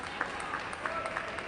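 A faint patter of scattered applause rises at a WTT Star Contender table tennis match in Goa, with light claps over a low background murmur.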